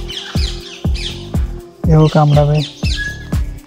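Pet birds at a safari park squawk and chirp in short sharp repeated calls close by, with a person talking over and between them.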